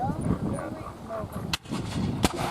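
Historic field guns firing at a reenactment of the Siege of Old Fort Erie, two distant booming reports heard under continuous narration and crowd noise.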